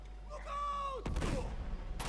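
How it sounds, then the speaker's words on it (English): A weak explosion in Uncharted 2 gives a short, dull burst of noise after a rising tone, trailing off quickly. A voice talks near the start. "That was a weak explosion."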